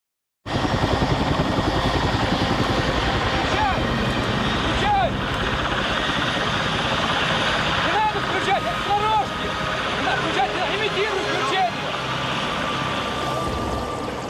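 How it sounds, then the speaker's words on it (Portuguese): Military helicopters flying over the burning Chernobyl reactor, a loud steady rotor drone with pulsing blade chop that holds throughout, with a voice speaking over it. "Moscou enviou o general Antotkin e 80 helicópteros para combater e acabar com o incêndio."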